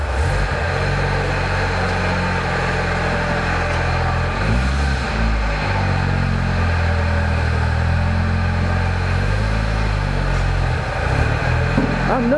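A Suzuki car with a newly fitted engine runs and pulls away, its low steady engine drone rising and shifting in pitch as it moves, close and continuous.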